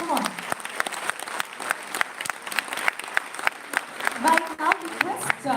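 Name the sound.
audience applause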